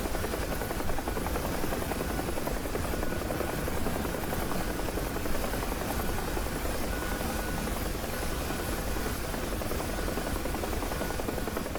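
Bell UH-1 Huey helicopter in flight within the DCS World flight simulator: a steady, loud, continuous rotor thump and turbine whine with no break and no voices over it.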